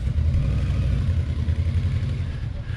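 A 2006 Yamaha Royal Star Tour Deluxe motorcycle rolls across grass, its engine giving a steady low rumble with some clatter, fairly loud and close throughout, with no talking.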